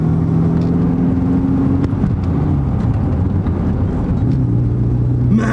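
Engine of a Volkswagen Golf GTI MK3 pulling away from a stop, a steady low drone with gear-by-gear pitch rises, heard from inside the car and continuous throughout.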